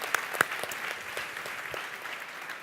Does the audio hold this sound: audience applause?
yes